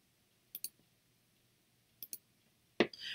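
A computer mouse clicks in two quick double-click pairs, crisp and close, separated by quiet pauses, with a louder click and a rustle at the end.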